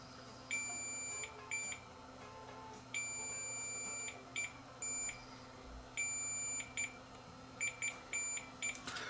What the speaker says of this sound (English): Got the meter in continuity mode, so it will buzz if I've got continuity.